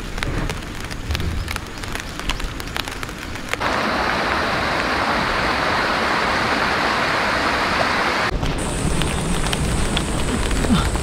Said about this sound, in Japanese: ちょっと雨降ってきました。